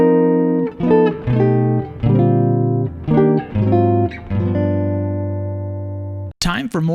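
Jazz guitar chord melody of Silent Night, measures 15 to 18, with a tritone substitution feel: sustained harmonic chords struck one after another in a slow rhythm, ringing clearly and alone, ending with a brief string scrape.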